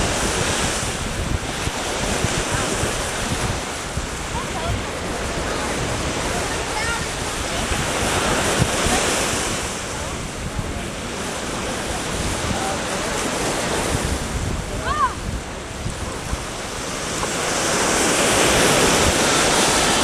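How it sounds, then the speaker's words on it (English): Ocean waves surge and crash against a rock wall at Lanikai Beach, a steady broad roar of surf mixed with wind buffeting the microphone, swelling louder toward the end, with no one talking. "You can actually see the waves crashing up against that rock wall."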